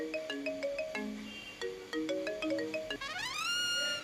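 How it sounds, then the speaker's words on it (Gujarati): A mobile phone ringtone plays a bright, repeating melody of short electronic notes, then rises into a sweeping upward run, close and clear with no talking. "જો તો ફોન આવ્યો, કોણ છે?"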